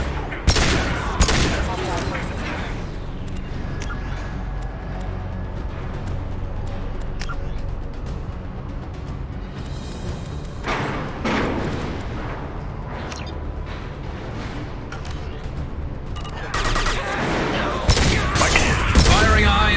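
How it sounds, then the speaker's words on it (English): Weapon fire in the video game Mass Effect 2, with repeated sharp shots in bursts over a steady bed of combat noise and music, densest at the start and near the end. "Firing a high impact shot."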